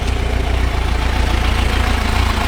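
A 2015 Kawasaki Versys 1000 LT motorcycle engine idles steadily at close range, a loud, even, low pulsing rumble with no talk over it.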